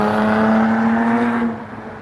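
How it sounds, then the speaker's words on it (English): A loud souped-up car engine drones and revs steadily up close, holding a strong tone before easing off and fading toward the end, with no talking. "soup up their cars to be, like, excessively loud"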